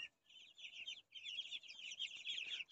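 Muscovy duckling chicks at a farm sale, a dense chorus of high chirping and peeping from many birds close by, continuous with a brief pause.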